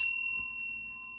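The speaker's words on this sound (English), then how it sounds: "I'm going to ring the bell in 3," A single small bell struck once, its bright ring decaying slowly and fading out quietly on its own.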